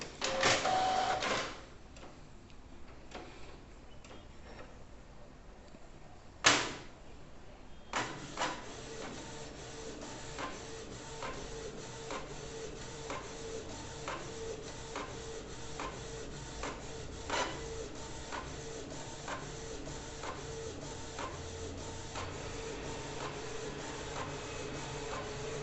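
A Canon MG3070s inkjet printer, its refilled PG-745 black cartridge in use, pulls in paper and prints: a clunk at the start, then a steady run of rhythmic mechanical clicks and whirring, fairly quiet and close.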